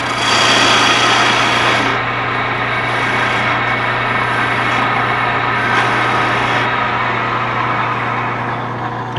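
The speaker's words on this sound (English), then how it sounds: "And slow the lathe down again" A wood lathe spins steadily, a strong broadband whir with a steady low hum, turning close by and unchanging throughout, with no voices.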